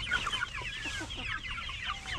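Backyard chickens and chicks cluck and peep busily at feeding time, a soft close chorus of short clucks and high chirps overlapping continuously.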